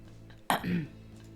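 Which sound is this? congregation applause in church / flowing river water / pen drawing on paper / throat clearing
throat clearing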